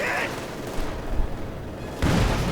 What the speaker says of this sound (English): Panzer goes on the far flank, coming under fire from the MD-42.